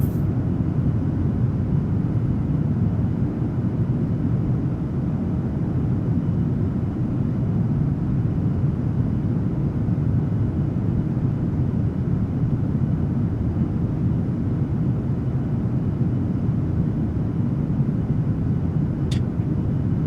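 Airliner engine sound in the PMDG 737-800 flight simulator with CFM engines, a constant loud broadband roar and rumble that holds steady with no talk.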